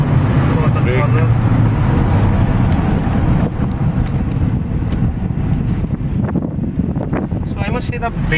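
A Mercedes B-Class driven hard on the BIC Formula 1 track, with a loud steady engine roar and heavy wind rush at high speed and the note easing off toward the end as it slows for a corner, with someone talking over it.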